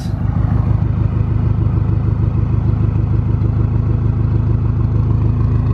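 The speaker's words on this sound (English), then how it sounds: "So this is what the idle sounds like at the moment." A BMW F10 M5 idles on its exhaust before a straight-pipe and X-pipe install, giving a steady, even low rumble with a fine rhythmic pulse, close and moderately loud, and no talking.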